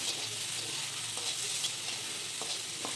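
Small prawns frying in a wok, a soft steady sizzle under a few light scraping stirs, fairly quiet and close, with no talking.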